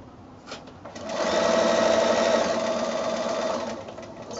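A sewing machine stitches bias binding onto the scalloped edge of a quilt, running in a steady whirring burst of about three seconds after a few brief taps, then slowing to a stop, close and clear.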